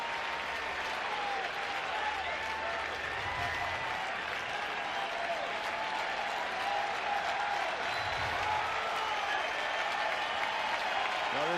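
A baseball stadium crowd applauds and cheers steadily for the hometown Royals against the Rangers, a dense, sustained roar of clapping from a large distant audience.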